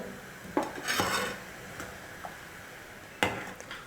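A ladle scrapes and clinks against a metal pot while stirring a rice flour and milk mixture for paal kozhukattai, giving a few sparse, fairly faint knocks and scrapes separated by quiet gaps.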